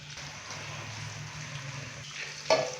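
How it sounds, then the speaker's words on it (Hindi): Finely chopped onions sizzle in hot ghee for a beef pulao, a soft, even crackle with a low hum beneath and a sharper clatter just at the end. "अभी मैं इसके अंदर 1 पाव के करीब प्याज बारीक कट किए हुए ये डालूंगा"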